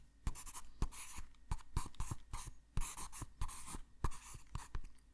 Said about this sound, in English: I'll write that down.